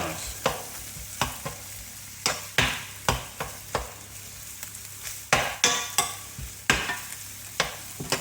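Egg for egg fried rice stir-fried in a hot pan with cumin seeds, a steady sizzle broken by repeated scraping and stirring strokes of a utensil at an uneven rhythm, close and fairly loud, with no talking.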